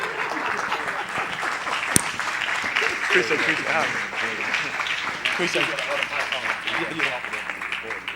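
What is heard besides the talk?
audience applause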